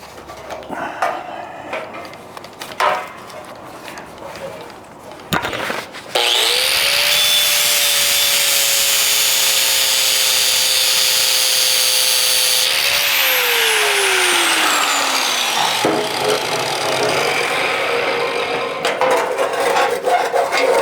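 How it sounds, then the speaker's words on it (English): An angle grinder cuts a corner off a shield, spinning up to a loud, sustained high whine for about ten seconds, then winding down with a falling pitch, close up with workshop noise before and after. "So I'm gonna take my grinder and just kind of nip that corner off so I can have an opening down there"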